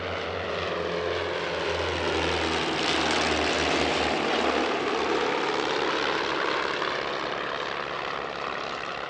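A French Navy Cap-10 propeller plane drones steadily overhead at an airshow, its engine a loud continuous buzz that swells slightly in the middle as it passes, with no voices.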